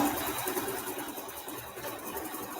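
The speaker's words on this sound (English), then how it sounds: "Our next step is it's going to be stitching some greenery here at the bottom." An embroidery machine stitches greenery on a small lavender sachet, a steady fast mechanical whirr with a regular stitching pulse, close and alone without talk.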